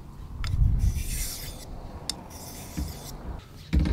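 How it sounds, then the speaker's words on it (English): A knife blade scraped firmly back and forth across a 1200 grit whetstone, giving several rasping strokes with brief pauses between them, close and fairly loud with no talking. "I bear down into the stone. And I'll spend about 10-15 minutes on this 1200 grit."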